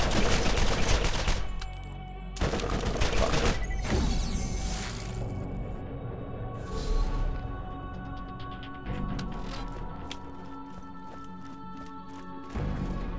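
Video game gunfire comes in loud, close bursts of rapid shots, separated by quieter stretches of rumbling background, then returns in a final short volley.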